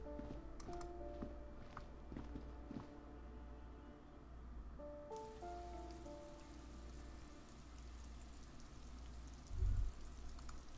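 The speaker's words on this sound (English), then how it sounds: "That's rain." Rain falls in the Disco Elysium game world, a soft, steady patter on surfaces with a low hum beneath and a few brief tonal chimes, faint and continuous with no speech.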